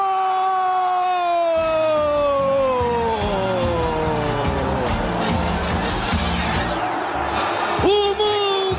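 São Paulo FC supporters in a stadium celebrate their club's third world championship with a loud, sustained crowd roar, screams and sliding whistle or horn tones, while a voice talks over the noise.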